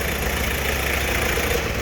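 A cold Ford Courier diesel engine, with newly installed injectors, idles steadily and loudly up close: a continuous rough, even rumble with no pauses.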